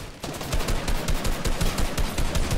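Rapid automatic gunfire from a Fortnite Battle Royale 1v1 match rattles out in dense, continuous bursts, loud and close, with no pauses for its whole length.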